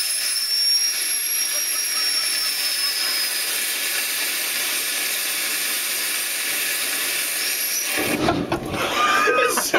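An amateur solid rocket motor, fired in a static test and producing about 140 pounds of thrust, gives a loud, steady roaring hiss for roughly eight seconds, then cuts off abruptly into mixed outdoor noise.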